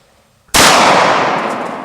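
A single loud gunshot cracks out during a deer hunt, hitting suddenly after a near-silent moment and then rolling off in a long, fading echo.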